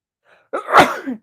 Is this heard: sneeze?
yes